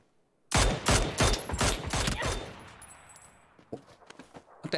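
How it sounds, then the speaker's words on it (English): Gunshots from behind in PUBG: after a brief silence, a sudden burst of loud, rapid automatic fire crackles for about two seconds, then fades to scattered fainter shots. "It sounded like I got shot from behind."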